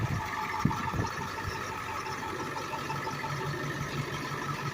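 A 7.3 diesel in a 2003 International 3800 school bus idles steadily, a continuous low rumble with a faint clattery texture, recorded close and alone with no voices.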